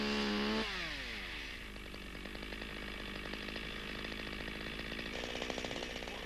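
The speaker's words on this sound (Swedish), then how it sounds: "Låt sågen vila på stammen och såga med dragande kedja." A chainsaw limbs branches off a felled tree trunk, its engine droning steadily at high revs throughout, starting with a brief higher whine before settling into a continuous loud cutting buzz, no voices present.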